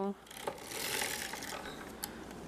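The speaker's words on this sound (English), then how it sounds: "I'm just gonna raise one needle on each side as I make a pass." A vintage sock knitting machine turns its mechanism, making a soft clattering whir with a couple of sharp clicks as a pass is made. It is faint and close, and there is no talk.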